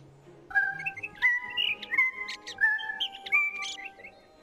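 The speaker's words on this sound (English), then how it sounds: "Let's hear the bird noise again." Bird chirps from a VR experience ring out as a series of bright, tonal whistles and tweets in short bursts. They are close and clear, with a faint low tone beforehand.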